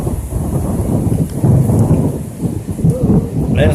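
A thunderstorm with tornado weather in the Eunice, Louisiana area, heard from under a doorway eave: a heavy, continuous downpour of rain with deep rolling thunder rumbling throughout, loud and close.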